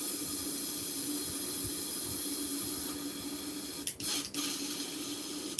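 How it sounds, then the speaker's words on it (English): An airbrush sprays out leftover green paint with a steady, close, airy hiss that cuts out briefly twice near the end before resuming. "So I'm going to get rid of this green out of the airbrush."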